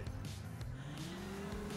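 Car tires squeal and skid in Grand Theft Auto IV, a faint, sustained screech over a low engine drone that continues through the short moment.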